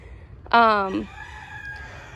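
A neighbor's rooster lets out one short, clear crow from a nearby yard, loud against quiet garden background, lasting about half a second before fading.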